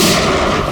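A burst of heavy gunfire in a crime drama shootout, loud and close, forming a dense continuous blast of noise that fills the whole brief moment.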